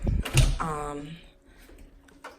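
An interior door swings open in an empty apartment's small entry area, giving a close, creaking groan with a soft knock at the start, and a faint tap as it settles.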